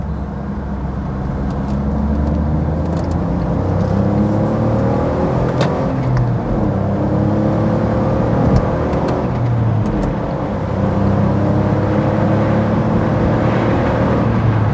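A Smart car, recently fixed for a starter motor fault and a vacuum leak causing boost issues, drives steadily on the road toward Birmingham, its engine a continuous loud hum from inside the cabin.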